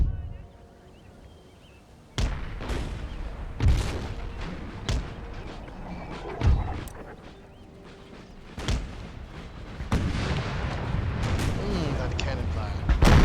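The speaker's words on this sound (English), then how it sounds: "That cannon fire." Cannon fire in the Empire: Total War strategy game (Empire II mod, 13 Colonies campaign) in the form of a string of heavy booms at irregular intervals, some close together, over a continuous rumbling battle background.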